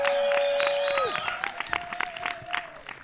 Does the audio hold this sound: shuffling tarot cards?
no